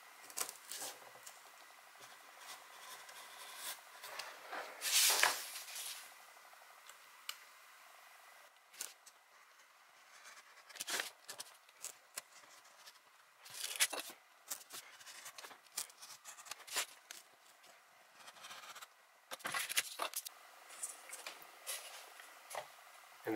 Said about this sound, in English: now I'm going to take the Exacto knife and cut them out